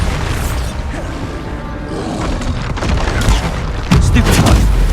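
Bombarda spell explosions during combat in the video game Hogwarts Legacy: loud, rumbling blasts and crashes, with a heavy boom near the end, over a voice calling out.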